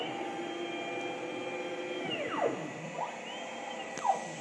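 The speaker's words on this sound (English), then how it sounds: "Notice you can barely hear the spindle running. Super quiet Colombo electro spindle, 2 horsepower." A MultiCam M Series 5x5 CNC router with a quiet 2-horsepower Colombo electro spindle runs with a steady, even tonal whine and hum, its pitch sweeping downward and back partway through, alone without voices.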